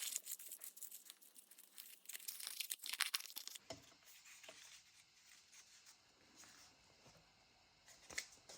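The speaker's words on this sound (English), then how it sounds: "I also really like the crumpled look, so let's add to that by just crumpling up a bit more." A paper bag is crumpled and crinkled up close, a dense burst of rustling for several seconds, then quieter scattered crinkles and handling sounds.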